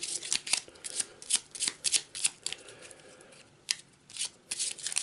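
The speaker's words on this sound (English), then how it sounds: "add them all together and give it a quick shuffle" A deck of response cards for the board game Perdition's Mouth: Abyssal Rift, discard pile added back in, riffled and shuffled close up in quick crisp bursts, a lull midway, then more rapid flutters.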